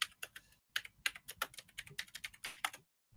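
Close-up typing on a computer keyboard during a motorsport podcast, quick irregular bursts of key clicks with short pauses, heard alone without talk.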